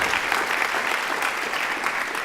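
An audience claps in a dense, sustained round of applause filling a hall, loud and even throughout with no voices standing out.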